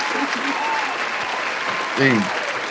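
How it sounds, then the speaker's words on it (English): A studio audience applauds guest Melody Cooper with a dense, steady wash of clapping, and a voice briefly calls out near the end. "Round of applause, ladies and gentlemen. Melody Cooper is in the building."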